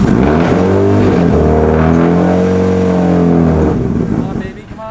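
Forged-internals stage 4 engine in a Nissan S13 drift car, cold started and revved hard, a loud rising and falling engine note held for several seconds before it dies away, with voices talking over it.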